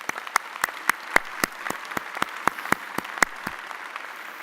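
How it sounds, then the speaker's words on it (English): Sparse clapping from a few people at a university commencement ceremony, with distinct individual claps in a steady rhythm that taper off after a few seconds. "Let's give them an applause."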